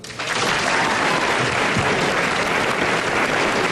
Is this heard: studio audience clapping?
yes